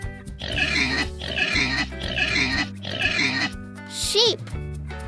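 A pig oinks and grunts in four rhythmic bursts, close and fairly loud, before a short squeal near the end.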